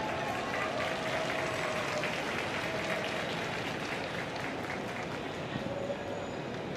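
A large stadium crowd applauds and roars at an Asian Champions League group match between Hoang Anh Gia Lai and Yokohama F. Marinos, a dense, steady wash of cheering and clapping that holds for the whole stretch.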